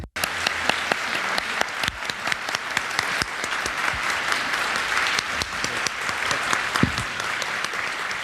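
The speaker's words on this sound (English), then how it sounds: "I would like to ask the audience to give a round of applause to all the panelists." A symposium audience gives sustained, even applause to a panel, the clapping dense and continuous throughout with little else heard.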